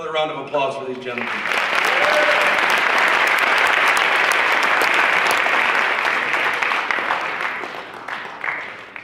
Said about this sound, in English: Another round of applause for these gentlemen.